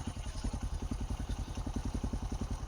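A motorcycle engine runs steadily while riding, with a fast even low thumping pulse close to the microphone and no talk.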